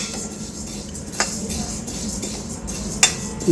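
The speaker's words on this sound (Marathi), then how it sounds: "यामध्ये आता आपल्याला तीळ घालून घ्यायची आहे आणि परत थोड्या वेळ परतून घ्यायचं आहे" Sesame and flax seeds are dry-roasted and stirred in a pan for chutney: quiet scraping with a few sharp utensil clicks against the metal over a soft, steady background, and nobody speaks.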